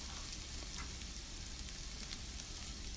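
Onions fry in a pan for a chicken curry, a steady even sizzle with faint crackles, close and continuous with no voices.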